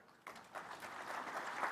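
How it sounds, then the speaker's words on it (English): Conference audience applauding: faint clapping begins abruptly and swells into a steady patter of many hands, heard at a distance in a large hall. "A round of applause for the Prime Cabinet Secretary"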